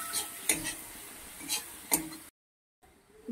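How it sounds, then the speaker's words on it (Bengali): A pan of spices with Kashmiri chili powder being stir-fried, with a low sizzle and a handful of distinct scraping stirs of a utensil, close by, then a brief cut to silence. "দিয়ে ভালোভাবে কষিয়ে নেব আরও মিনিট 2-এর মতো।"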